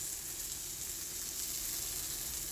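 Batter frying in a heated pan, a soft, steady sizzle and hiss throughout, quiet and close with no voices.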